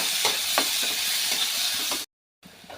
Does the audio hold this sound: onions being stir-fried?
yes